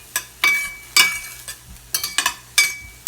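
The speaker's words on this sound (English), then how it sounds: "So while this is sauteing to get the flavors out" Onions and garlic sauté in a pan, the sizzle rising in short bursts as they are stirred or tossed, roughly eight sharp scrapes and hisses over a few seconds, close and clear.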